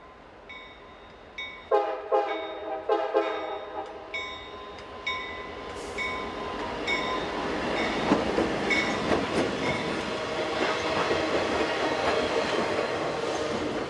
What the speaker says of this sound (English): Work completed, the maintenance of way train returns.